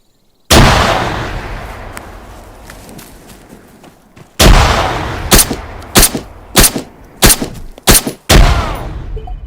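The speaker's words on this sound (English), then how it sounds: "just as I threw my smoke, he threw a grenade" Grenade blast and gunfire in the video game Arma 3: one loud explosion with a long decaying rumble, then a second big blast followed by a rapid string of sharp, close shots and bursts.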